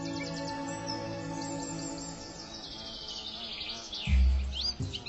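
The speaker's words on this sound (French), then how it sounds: "Dans le verger réapparaît une jeune reine frelon qui a survécu à l'hiver." A young queen hornet buzzing in an orchard in spring, a thin, wavering drone against a steady chorus of chirping insects and birdsong, with a low thump near the end.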